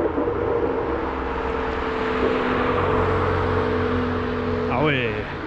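Ferrari 599 GTB with short springs and an X-pipe exhaust, its engine giving a steady loud droning hum from close by and a rising rev near the end.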